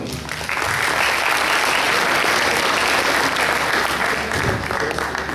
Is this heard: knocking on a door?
no